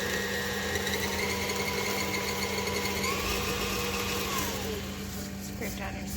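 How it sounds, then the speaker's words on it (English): An electric mixer beats two whole eggs into chocolate chip cookie dough, giving a steady, unbroken motor whir that stays fairly even for the whole stretch. "We're going to add in 2 eggs whole and mix that until they're worked in."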